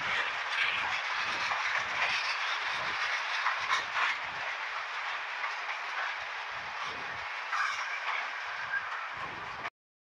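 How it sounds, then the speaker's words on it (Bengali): The Egarosindhur Express rolls into Kuliarchar station in Bangladesh with a continuous close rumble and rhythmic wheel clacks over rail joints, holding steady until it cuts off abruptly near the end. "আপনারা দেখতে পাচ্ছেন কুলিয়ারচর স্টেশনে ট্রেনটি ঢুকতেছে।"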